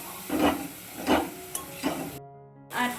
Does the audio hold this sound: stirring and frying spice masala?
yes